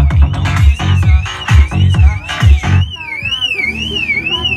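A Volkswagen Jetta car alarm wails with a warbling siren tone while heavy subwoofer bass thumps rhythmically over it, then the siren continues alone, loud and close.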